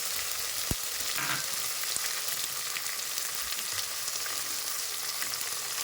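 Garlic and cumin sizzle in hot sesame oil with a steady, close frying hiss and one sharp tap near the start.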